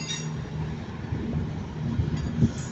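Cross Country class 221 trains departing Manchester Piccadilly together, a steady low rumble of diesel engines and rolling stock with faint clinks, fairly close and continuous.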